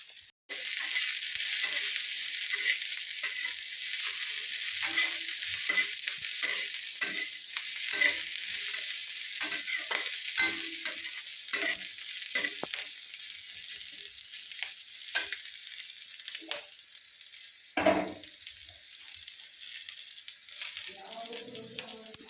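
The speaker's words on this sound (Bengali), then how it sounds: "চলো এখন তাড়াতাড়ি করে আগে ভাজাটা ভেজে নিই" Food frying in a pan, with a steady sizzle and hiss running throughout and repeated scraping and stirring, plus a few brief bits of quiet talk.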